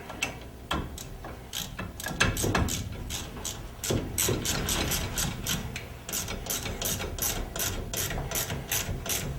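Ratchet tightening bolts on a Tri Five Pontiac disc brake conversion, rapid close clicking pawl strokes in quick repeated bursts, loud and alone, without speech.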